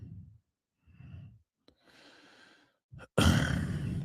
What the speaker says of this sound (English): That ain't me laughing. That's just me gasping.